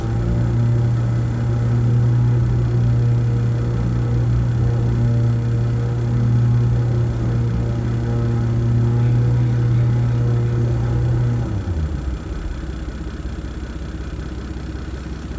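A Toyota Land Cruiser 80 off-roader stuck on a trail, its engine droning in a steady low idle-like rumble that holds for about eleven seconds before dropping in pitch and easing off, with no talk over it.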